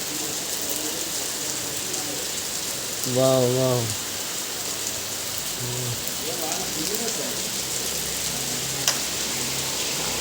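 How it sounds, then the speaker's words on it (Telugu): Heavy rain falls while the sun shines, a loud, even patter drumming on surfaces throughout, with a few short vocal exclamations on top. "ఎలా పడుతుందో చూడండి ఫ్రెండ్స్ వాన ఊటగా అయింది"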